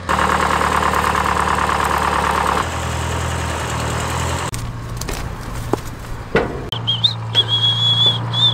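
Tractor engine with a hydraulic-lift auger attached, running loud and close with a steady rumbling idle, then shifting to uneven clanks, knocks and a high whine in the second half; no talk.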